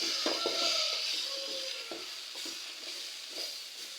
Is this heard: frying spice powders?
yes